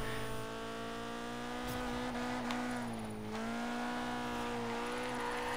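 A stock Nissan 240SX with about 100 horsepower corners with the e-brake pulled, its engine droning steadily as the tone dips and rises through the turn, with a brief tire screech mid-corner.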